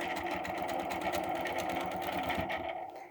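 A sewing machine stitches an arc across green fabric in a steady, continuous mechanical whir that runs close and loud before easing off near the end.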